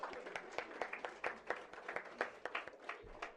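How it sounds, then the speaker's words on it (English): Scattered clapping from an audience at an International Women's Day celebration, with distinct individual claps, irregular and fairly sparse, sounding like a modest group rather than a full hall. "Give them a big hand of applause in the second row"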